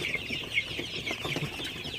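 Sonali chickens cluck and chatter together on a poultry farm, a dense overlapping flock sound with repeated short calls close to the microphone.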